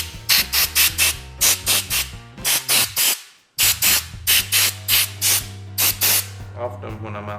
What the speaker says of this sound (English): So I'm going to use a little compressed air.